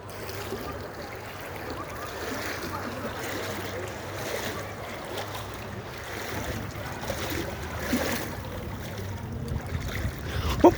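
Floodwater from heavy rain fills a street in Sharjah, giving a steady, low wash of rushing water with faint wind and traffic-like rumble, at moderate distance, with no clear speech.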